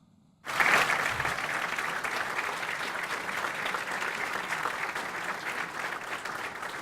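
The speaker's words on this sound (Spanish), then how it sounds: "Brindémosle un fuerte aplauso." Audience at an award ceremony at Mexico's national university breaks into strong applause after a brief silence, a dense, sustained wash of many hands clapping that holds steady to the end.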